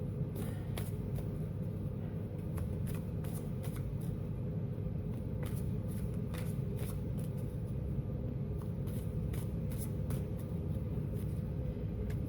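Tarot cards are shuffled by hand in a run of soft, papery flicks and riffles that repeat irregularly for about twelve seconds over a steady low background rumble, with no talking.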